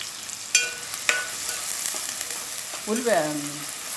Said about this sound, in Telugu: ఇదిగోండి ఆయిల్ వేడయింది, ఉల్లిపాయ ముక్కలు వేస్తున్నాను కదా.